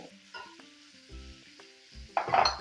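Chopped capsicum and besan with salt, red chilli, sugar and coriander powder are stirred in a pan. Soft sizzling and the scrape of a spoon come in short bursts, with a louder stirring clatter near the end and no voices.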